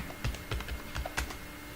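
Code is typed on a computer keyboard in quick, close, soft key clicks, about half a dozen irregular taps over a quiet background, with no talking.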